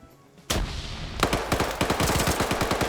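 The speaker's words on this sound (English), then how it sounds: "That's panic firing, putting rounds on Lurch" PKM machine gun firing in a PvP shooter game, starting with a sudden loud blast and then breaking into a fast, sustained, rhythmic burst that is close and dominant.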